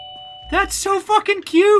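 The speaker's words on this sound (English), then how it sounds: "Sorry, that's my doorbell" A doorbell chime rings briefly in a home, its steady tones sounding just before a voice speaks over it.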